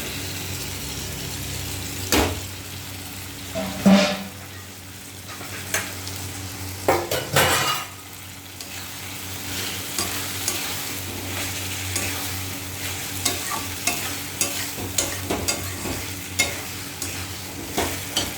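Goat fat and potatoes sizzle in a pan while being stirred, with steady frying hiss and repeated scraping and clinking of the spoon against the metal, close and moderately loud.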